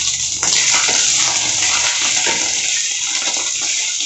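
Mint leaves pressed down in hot oil in a pan for Nellore-style podhina chutney give a loud, dense sizzle and crackle as their water escapes, holding steady throughout.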